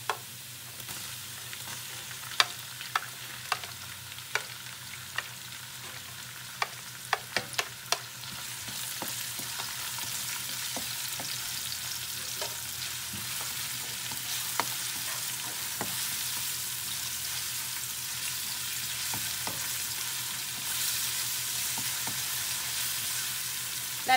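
Onion sautés in a pan for seafood sotanghon. Early on, scattered sharp clicks and taps of a utensil sound over a quiet background, then a steady, fairly soft sizzle sets in and holds for the rest of the clip.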